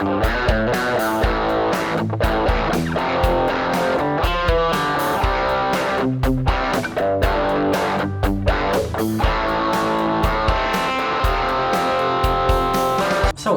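Distorted electric guitar played in a rock style, thick driven chords and riffs ringing continuously and loud at close range, with no talking.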